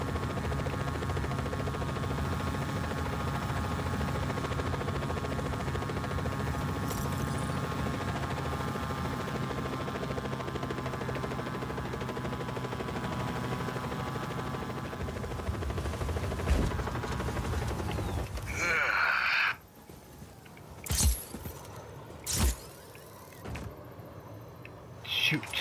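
A helicopter in the video game Just Cause 4 gives a steady, droning rotor and engine hum with a tonal whine for most of the scene, then cuts off into sharp bursts and impacts near the end.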